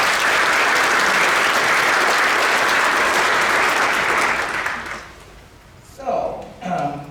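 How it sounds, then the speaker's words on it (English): Students, teachers and families applaud themselves in a loud, dense ovation that stays steady, then tapers off as a voice begins speaking. "Please give yourselves a round of applause."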